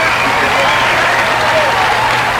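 A high school basketball crowd in a Plymouth versus Rochester game cheers and applauds steadily after a three-point play, a loud continuous roar of clapping and voices throughout, with a commentator talking over it.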